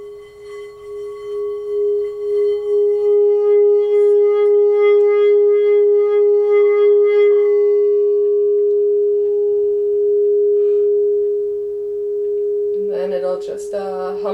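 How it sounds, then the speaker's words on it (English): A meditation singing bowl hums with a single pure, sustained tone that swells and holds steady for a long stretch, fading only slightly before a voice starts talking at the end. "the bowl will be humming today"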